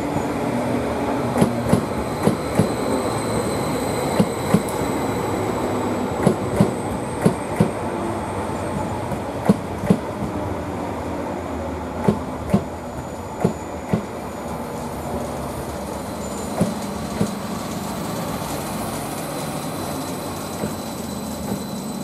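Greater Anglia class 745 electric train, unit 745 008 on the Norwich to London Liverpool Street service, running through Manningtree station with a steady rolling rumble and a series of sharp rhythmic wheel clicks over rail joints.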